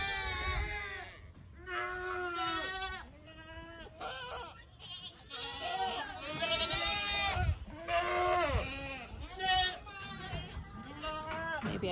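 Hungry goats in a barn bleat loudly and repeatedly at close range, many overlapping cries rising and falling in a noisy chorus, with a person speaking briefly between them.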